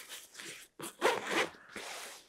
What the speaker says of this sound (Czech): Zip je možné rozepnout zhruba do poloviny výšky komory.